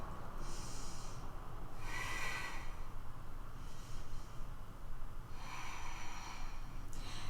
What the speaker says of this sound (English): 2 rounds of breath.